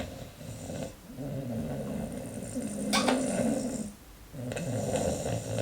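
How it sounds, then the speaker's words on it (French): Loud, steady snoring repeats in long rasping breaths with a short pause partway through, heard close up and alone. "Il n'y a pas à ronfler aussi fort."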